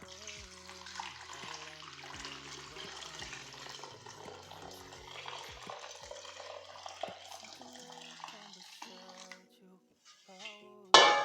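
Homemade hair tea poured through a cloth strainer into a container, a continuous thin liquid trickle with faint clinks, quiet and close, stopping near the end before a brief louder knock.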